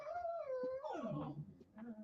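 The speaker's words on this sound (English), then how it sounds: "Dogs are needing to go out real quick." Dogs whining and howling to be let outside, a close, wavering high whimper that slides downward, followed by shorter yips and whines.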